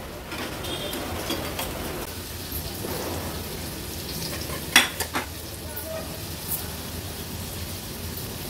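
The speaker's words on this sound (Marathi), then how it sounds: "फक्त 2 टेबलस्पूनच आपण तेल घेतलं आहे आणि ह्याच्यातच ही बटाटी आपण फ्राय करून घेतोय।" Potatoes frying in just two tablespoons of oil over medium-to-high flame, a steady soft sizzle with occasional stirring scrapes and a couple of brief utensil clinks, no voices.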